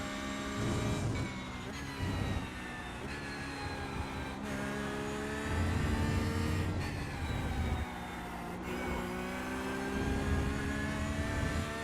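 Mazda MX-5 race car engine lapping Monza in a racing video game, a steady loud drone with rising and falling pitch through gear changes, continuous for the whole stretch with no voice over it.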